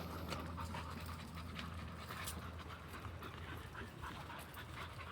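Dogs out on a trail walk pant in a steady, fairly quiet rhythm, with soft footfalls and outdoor hiss mixed in and no talking.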